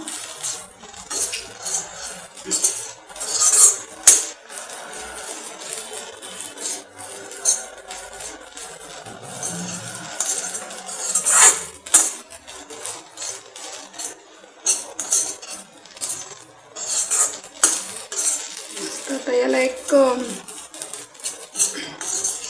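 A utensil scrapes and clinks against a pan while stirring upma with tempering, in irregular strokes, close and moderately loud, with soft rubbing between the louder knocks.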